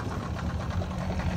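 A small fishing boat's engine idles in neutral, a low, steady mechanical rumble with a soft rhythmic knock, moderately faint and unbroken.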